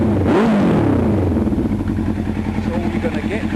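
A 1998 Suzuki GSX-R 600 sport motorcycle engine revs up close in a short rising burst, then settles into a steady, throbbing idle.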